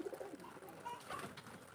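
Domestic pigeons coo softly while feeding, with several low, burbling calls and faint rustling at close range, fairly quiet overall and without speech.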